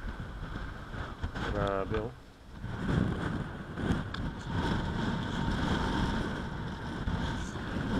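Gusty wind buffets the microphone with a rough, rumbling roar, and a person exclaims briefly near the start.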